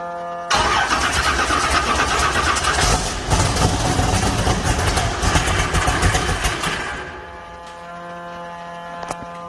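An engine fitted with Tornado fuel injection cranks and fires at close range, then runs loud and steady for several seconds before dropping to a quieter idle.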